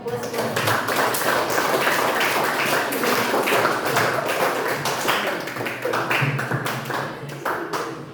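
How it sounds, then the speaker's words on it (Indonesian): Students in a classroom during an economics practice lesson applaud with a dense, continuous patter of many hands that fades slightly near the end, while a voice talks over it. "Sebelumnya tepuk tangan dong."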